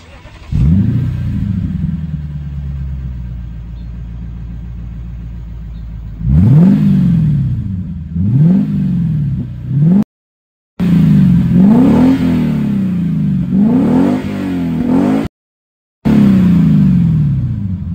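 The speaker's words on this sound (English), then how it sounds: "So here's an exhaust clip of my X-Force cat-back exhaust" A warmed-up Lexus IS F with an X-Force cat-back exhaust idles steadily, then revs hard again and again, each loud, close snarl rising and falling in quick succession, with brief breaks between bursts.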